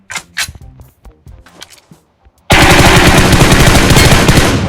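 In a PUBG Mobile match, a few scattered shots and clicks are followed by a sudden, very loud, sustained burst of rapid automatic gunfire close by that continues to the end.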